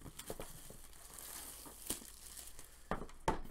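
Foil wrapping on a Ticket to Ride France and Old West board game expansion crinkles and tears in close, irregular bursts, with sharper crackles near the end and no talking.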